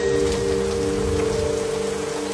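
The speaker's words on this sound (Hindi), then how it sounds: "ठंडा मौसम, हल्की बारिश" Light rain patters steadily and evenly under a low, humming drone, with no voices.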